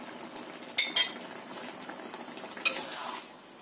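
Spoon clinks and scrapes against a pot while seasoning is stirred into food, two sharper knocks standing out over a soft, steady swishing close by.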